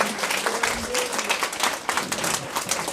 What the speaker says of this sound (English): A big round of applause to Damon as well.